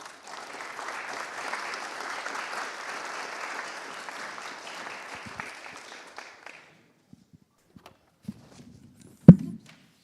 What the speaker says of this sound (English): Please give a warm applause to Niko.